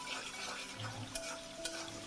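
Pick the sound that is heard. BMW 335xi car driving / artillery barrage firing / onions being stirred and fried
onions being stirred and fried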